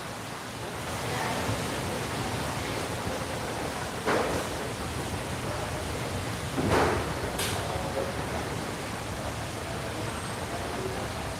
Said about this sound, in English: The fountains.